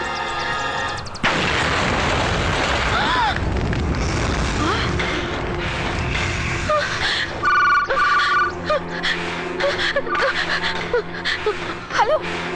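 Explosion effect from a Bengali-dubbed South Indian action film: a sudden heavy blast breaks in after a brief quiet opening, then a dense, roaring rumble of fire and debris lingers, with ringing tones and sharp bangs layered on top.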